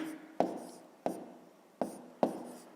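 Chalk or pen writing a fraction by hand for a fifth-grade maths exercise, four sharp separate strokes with short scraping tails, close and distinct with no talking.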